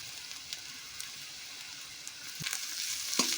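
Chopped coconut frying with browned onions in a pan, a steady soft sizzle with a few sharper crackles and stirring clicks near the end, no voices.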